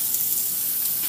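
Food sizzles in a hot pan, a short burst of steady bright crackling hiss that stays fairly quiet throughout, with no talking.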